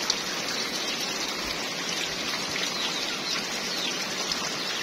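Rain begins falling over farmland after a month of hot weather, a continuous, even hiss of drops that stays moderately loud throughout with no voices.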